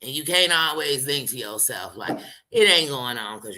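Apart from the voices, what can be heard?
No everyday noise stands out behind the speech.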